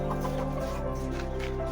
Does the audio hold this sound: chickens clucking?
yes